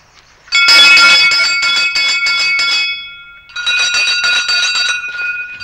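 A small bell at a mountain temple on a trek route in Uttarakhand rings loudly and close, a quick run of bright jangling strikes, a short pause, then a second burst of ringing, with no voices.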